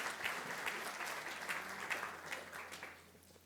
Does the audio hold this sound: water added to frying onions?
no